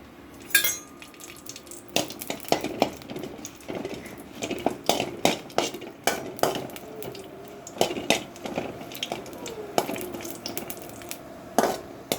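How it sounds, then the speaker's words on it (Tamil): Dried red chillies roasting in sesame oil in a pan, with irregular clinks and scrapes of a spoon against metal over a soft, steady background hiss, close and fairly quiet. "கொஞ்சம் நல்லெண்ணெய் சேர்க்குறேன் காஞ்ச மிளகாய் வறுத்துக்கலாம்"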